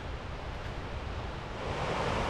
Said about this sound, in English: you can still see the creek. Almost looks like there's two separate streams now, but still hearing the sound of the water